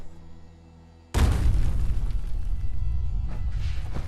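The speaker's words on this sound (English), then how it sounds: "If I hold it, it throws a grenade." A grenade thrown in Fallout 4 bursts with a sudden loud boom after a quiet lead-in, then a long rumbling tail of debris and echo.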